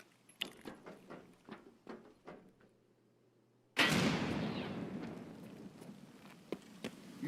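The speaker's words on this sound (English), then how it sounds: "Grenade, move." A grenade goes off in Escape From Tarkov after a run of sharp clicks and small knocks, bursting into a sudden loud, close blast whose rumbling roar fades slowly over several seconds.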